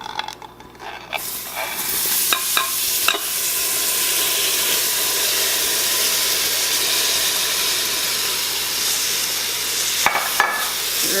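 Vegetables tipped into a hot roux in an Instant Pot for shrimp étouffée, sending up a loud, steady hiss of sizzling with a few stirring clinks at the start and end.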